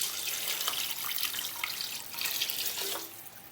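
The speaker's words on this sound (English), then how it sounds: "Finally, I'm going to add 3 cups of water." Three cups of water poured from a tap or jug into a cooking pot for rice, a steady splashing hiss running continuously with slight swells, close and fairly loud with no talk.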